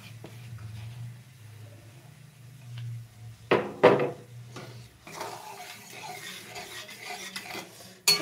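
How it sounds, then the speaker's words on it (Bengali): Lentils (dal) tipped into a pan and stirred, with a spoon scraping and clattering against the metal, a couple of sharper knocks midway, then a steady, louder rustling stir. "চলো এবার এখানে আমি এই ডালটা অ্যাড করে দেবো।"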